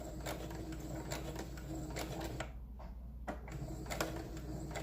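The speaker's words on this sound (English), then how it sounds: "So okay, I think we're ready to sew again." A sewing machine stitches a paper zipper pouch for a traveler's notebook in a quiet room, a faint steady whir with light rhythmic ticks and one brief pause.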